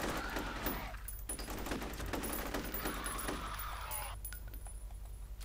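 Rapid bursts of gunfire in the video game F.E.A.R. crackle in quick volleys with sharp metallic clinks, loud and dense, with brief pauses between strings of shots.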